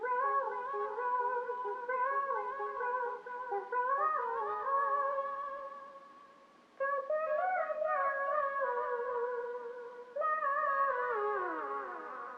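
Chopped vocal sample drenched in chorus and reverb, sitting in a mellow RnB beat, with smooth sustained harmonic phrases that shift every couple of seconds and a brief dip before resuming at steady loudness.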